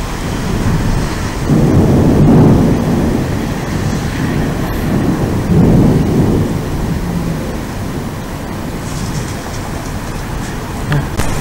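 A summer thunderstorm over Aurillac in August: heavy rumbling thunder swells in two loud rolls over a steady hiss of rain, then fades into continuing rainfall.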